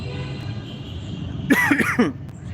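A couple of short, harsh coughs close by, standing out briefly over a steady low background hum.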